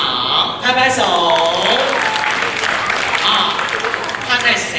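An audience at a children's storytelling concert with a chamber ensemble claps along, steady applause filling the room while an adult voice talks over it.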